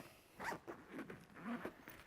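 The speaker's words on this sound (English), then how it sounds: "Just unzip to open." A lighting kit bag is unzipped in a few short, quick rasping pulls, close and fairly quiet.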